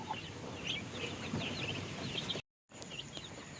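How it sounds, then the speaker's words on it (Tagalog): Backyard chickens, Rhode Island Reds and native birds, cluck and call in a steady outdoor chorus of short, overlapping notes at moderate distance, with a brief dropout partway through. "Yan sila mga ka-backyard, yung mga alaga natin dito. May Bibe, Rhode Island Red at Native, no?"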